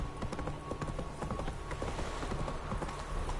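Roach, a horse in The Witcher 3 video game, trots with a steady, quick clip-clop of hooves, fairly close, under a constant low ambient bed with no voices.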